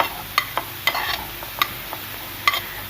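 Capsicum and cabbage frying with chicken in a pan, a steady sizzle under sharp metallic clinks of a spoon striking the pan at irregular intervals, close and clear with no talking.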